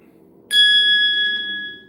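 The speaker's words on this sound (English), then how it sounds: "we are going to hear a bell sound" A single bright bell ding rings out cleanly on a podcast, striking sharply and ringing on with a sustained metallic tone that slowly fades, heard alone over faint background murmur.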